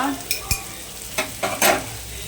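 Pomfret (halwa) fish fries in a pan with a steady low sizzle, broken by several sharp clatters and scrapes of a spatula stirring and nudging the pieces, louder toward the end.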